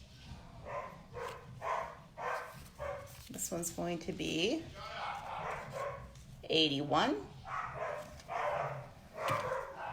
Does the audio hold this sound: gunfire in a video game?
no